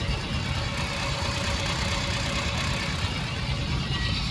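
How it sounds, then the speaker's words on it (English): A 1969 MG GT engine cranks over on the starter in a steady, unbroken mechanical churn that holds at an even loudness for several seconds, close up and with no voices. "The motor is spinning over."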